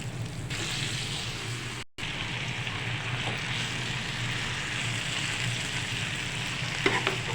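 Drumstick leaves fry in oil with turmeric in a pan, a continuous close sizzle and hiss with occasional soft stirring, broken by one brief cut in the sound, and no talking.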